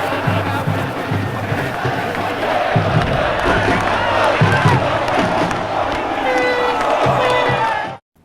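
Moto football supporters in Maranhão cheering and celebrating a big win, a loud, dense crowd roar sustained throughout with shouts and whoops rising from the mass of voices, ending abruptly.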